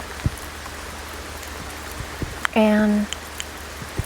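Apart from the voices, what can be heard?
rain falling during a rainstorm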